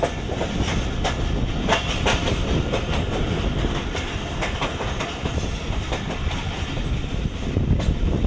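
Awam Express passenger train rolling slowly out of the yard toward the platform at Golra railway station, with steady close rumble and repeated clickety-clack of wheels over rail joints throughout.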